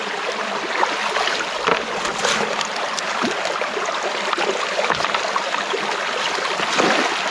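Water rushes continuously through a stream channel where a flow has been blocked and diverted, a steady close splashing and gurgling with small bursts, loud and without speech.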